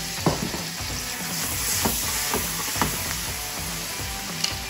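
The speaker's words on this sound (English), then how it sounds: "Now as the sugar starts to cook and dissolve, that's going to turn into a really nice sticky caramel." Baby onions frying in a pan as vinegar and sugar cook down into a sticky caramel, giving a steady close sizzle with a few stirring clicks and scrapes.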